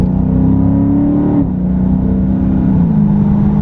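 A Dodge Charger Scat Pack engine roars loudly and steadily, with its pitch dropping sharply as it shifts gears once and then again, heard from inside the car.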